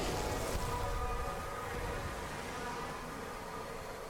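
A bee swarm in Sunless Skies drones steadily, a dense and fairly faint insect hum that holds for the whole stretch with no talk over it.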